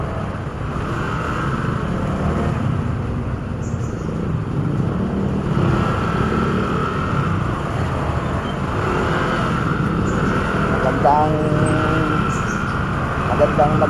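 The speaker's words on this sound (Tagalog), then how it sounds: "Traffic" Road traffic on a morning commute to work rumbles steadily nearby, with engine drone and passing vehicles forming a continuous loud wash, and a person talks over it at times.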